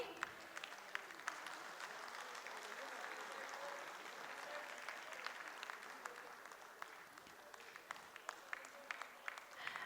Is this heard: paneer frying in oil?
no